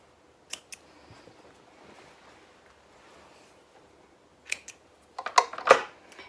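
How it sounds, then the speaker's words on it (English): Scissors snipping sewing threads on a garment: a couple of sharp isolated snips early, then a tighter cluster of close cuts at the end, with quiet between. "And cutting those threads."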